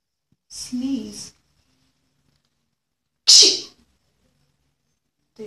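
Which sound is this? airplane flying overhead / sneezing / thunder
sneezing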